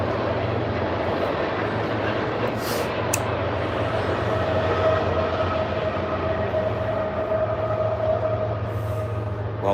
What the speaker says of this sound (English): now you don't have to miss the sounds of U.S. trains